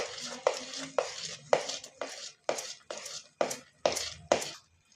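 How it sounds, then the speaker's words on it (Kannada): A filling of peanut and sesame powder being stirred in a pan, ten regular scraping strokes about half a second apart, close and distinct against near silence. "ತಿರುಗಿಸ್ಕೋತಾ ಇದ್ದೀನಿ"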